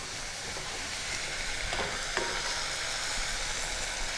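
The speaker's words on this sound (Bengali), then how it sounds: "শাকটা ভালো করে নাড়িয়ে চাড়িয়ে দেব।" Leafy mustard greens frying in a pan while being stirred, a constant close hiss of sizzling with a few faint scraping strokes of the spatula, no voices.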